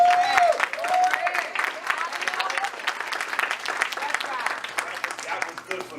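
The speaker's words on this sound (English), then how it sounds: "Can I get somebody, just about 2 or 3 people to shout and give the Lord a hand clap of praise?" A church congregation claps and shouts in praise, a dense, steady burst of applause and raised voices that fills the room and continues throughout.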